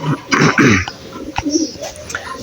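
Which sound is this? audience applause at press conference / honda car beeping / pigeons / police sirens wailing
pigeons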